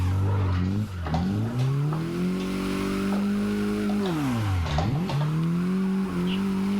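A Mazda MX-5 Miata drifting at CG Drift Park, its engine droning loud and close with pitch sweeping up and down as the throttle is lifted and reapplied, along with tire noise through the slide.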